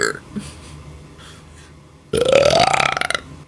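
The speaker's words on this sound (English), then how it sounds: "Huge burp" A single loud, rasping burp erupts close to the microphone after a stretch of quiet breathing and soft background sounds, lasting over a second with a rising pitch.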